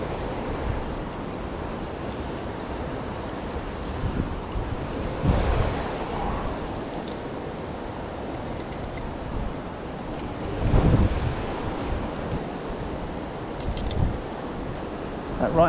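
Water rushing over a weir on the River Thames, a continuous broad roar mixed with gusty wind buffeting the microphone and a few louder surges.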